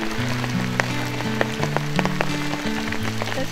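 Rain falls steadily outdoors in rural Indonesia, a dense patter with scattered sharper drops, layered over low sustained tonal droning that runs throughout.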